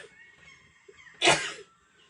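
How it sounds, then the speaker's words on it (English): One abrupt, loud sneeze bursts out close up after a moment of quiet, then fades quickly. "Oh, I'm going to sneeze, excuse me."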